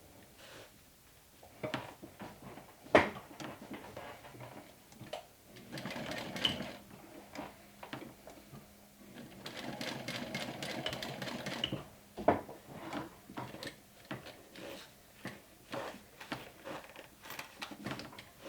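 A sewing machine stitches a mini backpack in several runs of rapid mechanical whirring and clatter, starting and stopping with handling knocks and fabric rustle between bursts, close and moderately loud.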